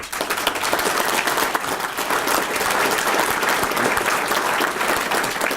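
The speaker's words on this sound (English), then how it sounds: "I think they deserve a round of applause" An audience at a naturalization ceremony at Bandelier National Monument breaks into sustained applause, a dense, even wash of many hands clapping at close range with no talking over it.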